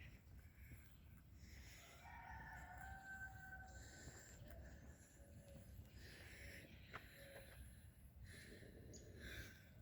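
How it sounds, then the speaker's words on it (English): Two roosters crow back and forth across a rural property during an outdoor walk, their calls carrying from moderate distance over steady outdoor background noise, with no talking. "two roosters are talking back and forth"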